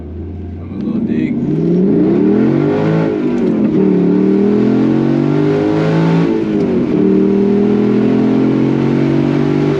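Mercedes C55 AMG, a W203 fitted with a custom cold air intake, revs loud and close: a rising roar, a dip, then a second climb into a sustained high idle-rev drone.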